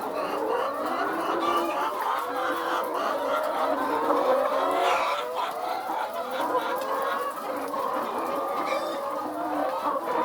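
A dense chorus of many laying hens clucking and murmuring continuously while feeding, a crowded flock heard close, with no pauses in the chatter.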